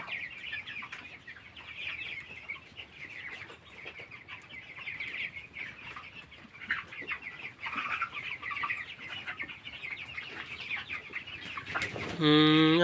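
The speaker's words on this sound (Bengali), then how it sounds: "শীতের জন্য এরা ঘুমাচ্ছে মুরগিগুলো।" A flock of 22-day-old broiler chickens on a small poultry farm clucks softly and continuously in cold weather, scattered calls rising and falling, with a louder burst of noise at the very end.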